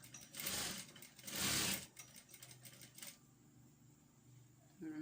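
Sewing machine back-stitching tutu fabric, two short loud bursts of stitching in the first two seconds, then a quieter hum and small handling noises.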